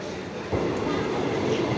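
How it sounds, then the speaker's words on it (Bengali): A train arriving at Chinsurah station near Kolkata rumbles close by, its steady low roar swelling suddenly partway through and holding loud to the end. "ট্রেন এসে গেল"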